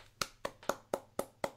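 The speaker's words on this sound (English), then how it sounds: "give him a good old golf clap" A slow golf clap: six evenly spaced, crisp hand claps at a relaxed, steady pace, fairly quiet and close, with no talking.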